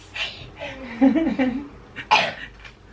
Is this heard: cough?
yes